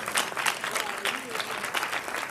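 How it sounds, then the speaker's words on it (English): An audience at a conversation-series event claps in a brief burst of applause, close and lively, with voices mixed in under the clapping. "If y'all really like it, can I hear y'all clap real quick?"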